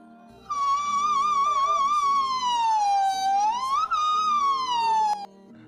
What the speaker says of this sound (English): So the whistle register is the highest voice register ever.